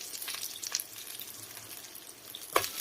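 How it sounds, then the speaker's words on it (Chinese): An onion and egg pancake pan-fries under a lid, a soft, steady sizzle close by, fairly quiet, with a light knock or clink near the end. "然后盖上盖子，继续给它烙，把另一面给它煎至金黄"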